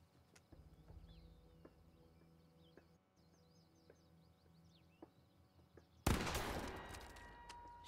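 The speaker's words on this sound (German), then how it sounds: "Schießen von 50 Meter mit einer Pump auf einer Mini-Melone" A pump shotgun blast in the video game The Quarry, fired from 50 meters at a mini melon, bursts loud and broadband near the end after quiet ambient game sounds with faint bird chirps and scattered ticks.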